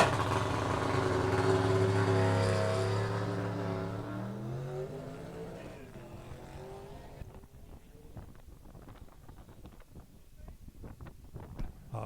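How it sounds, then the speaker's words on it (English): A manual-shift race car's engine revs up loudly and fades as it pulls away, pitch climbing in steps like gear changes, leaving faint wind and distant noise. "Sounds like a manual shift car."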